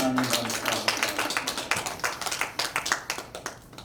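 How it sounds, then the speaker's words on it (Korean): An audience at a Korean church denomination general assembly and seminary claps in welcome, a dense run of hand claps that thins into scattered, distinct claps toward the end, with a faint voice under it. "박수로 환영합니다."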